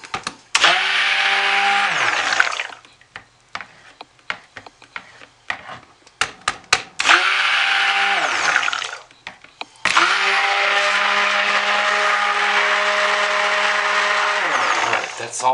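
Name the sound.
stick blender mixing soap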